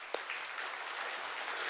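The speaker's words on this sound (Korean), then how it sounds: "우리 하나님께 먼저 감사의 박수를 한번 올려드렸으면 좋겠습니다" A church congregation at a Sunday afternoon service in Yangsan claps in thanks, a brief burst of scattered applause from a room full of people, moderately loud and without talk.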